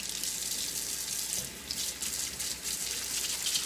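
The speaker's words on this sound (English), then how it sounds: "Just wash my hands." Hands are rinsed under a running kitchen tap, a steady splashing rush of water close by with small fluctuations as the hands move through the stream.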